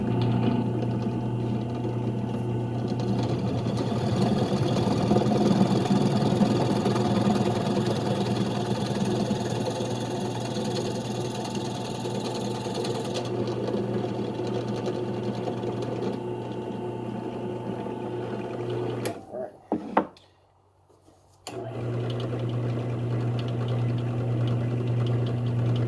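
A Porter Cable drill press drills a hole, its motor running in a steady mechanical drone that persists for most of the stretch, then cuts out abruptly for a short pause and starts up again.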